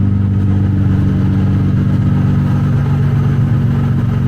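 A car engine fitted with a Tomei exhaust idles just after startup, a loud, steady low rumble with a slight pulsing throb and no voices.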